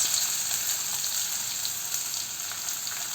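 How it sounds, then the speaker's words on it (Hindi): Chopped onions frying in hot oil with cumin seeds for a lobia dal tempering, a continuous bright sizzle that stays steady and fairly loud throughout with no voices. "और अब हम ऐड कर रहे हैं इसमें 2 कटे हुए प्याज"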